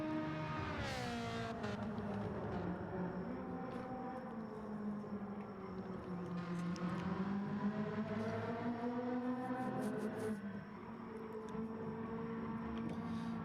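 Ferrari race car in Gran Turismo 7 at the Nürburgring GP circuit, its engine revving up and down through gear changes with a rising and falling whine, steady and fairly close, with no talk.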